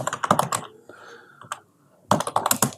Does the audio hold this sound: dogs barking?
no